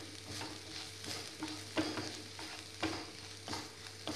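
Onion, green chili, garlic and ginger sauté with salt in a pan for chicken rolls, giving a soft continuous sizzle broken by repeated scraping stirs at a steady rhythm, close and moderately quiet.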